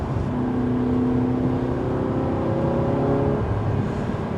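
An Audi R8 sports car engine drones steadily and its pitch slides as it downshifts, with the aftermarket exhaust rising and falling, heard from inside the moving car.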